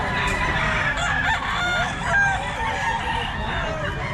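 Gamefowl roosters of lifeline and lemon sweater breeds crow loudly and cluck in a crowded yard, overlapping calls filling the space continuously with no pause.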